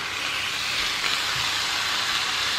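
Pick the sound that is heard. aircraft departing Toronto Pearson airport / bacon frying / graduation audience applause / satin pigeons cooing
bacon frying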